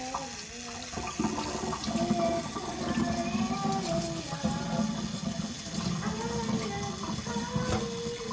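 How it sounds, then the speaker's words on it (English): Steady running cold water from a tap splashes and gurgles continuously at close range while rinsing pork, with a few clinks and faint rustling in the background. "now I'm just gonna rinse it off with cold water."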